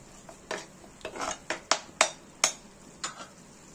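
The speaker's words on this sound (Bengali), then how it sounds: "দিয়ে আমরা ভালো করে এখানে মিশিয়ে নেব।" Kashmiri chilli being stirred into a prawn rezala masala, heard as a series of distinct scraping strokes of a spoon across the pan, about eight separate swipes at an uneven pace, fairly faint and close.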